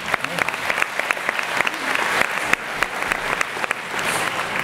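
Audience applause for a town mayor at a French New Year's wishes ceremony, a sustained patter of many hands with sharper individual claps standing out, fairly close.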